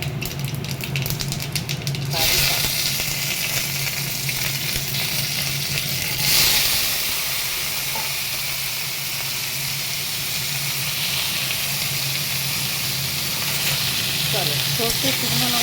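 Mustard seeds and dried red chillies sizzle in a small amount of olive oil in a home kitchen, a steady broadband frying hiss throughout with a low hum underneath, with no voices.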